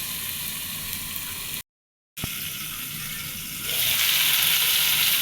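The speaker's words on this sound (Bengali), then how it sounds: "এবার একটু ভেজে নিব।" Eggplant and taro pieces fry in oil in a covered pan with a steady close sizzle, broken by a brief cut to silence, then a louder, hissier sizzle toward the end.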